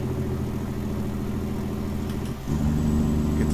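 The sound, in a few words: truck engine brake (Jake brake) in American Truck Simulator video game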